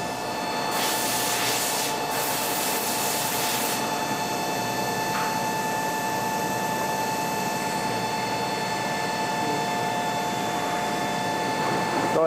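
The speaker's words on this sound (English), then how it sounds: "He's going to load the blade and adjust the table up to drill the blade." A drill press runs with a steady drone and constant high whine throughout, broken early by a couple of hissing bursts as it drills through a metal blade.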